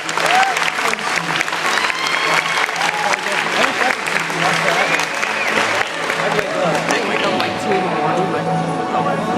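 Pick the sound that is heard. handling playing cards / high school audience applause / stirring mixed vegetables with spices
high school audience applause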